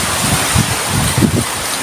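Strong typhoon wind roars in a steady wash of noise, with heavier gusts buffeting through now and then.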